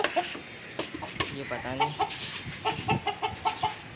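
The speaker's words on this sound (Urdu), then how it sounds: "ادھر یہ ایک مرغے کو چھوڑا ہوا" A rooster in an enclosure clucks again and again in short, irregular bursts close by, while someone talks over the calls.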